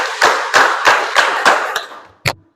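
Group of people performing the 'tepuk malam' rhythmic clap, a sequence of about six loud, crisp claps in a steady beat followed by a short pause and one final sharp clap.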